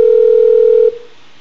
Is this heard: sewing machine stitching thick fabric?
no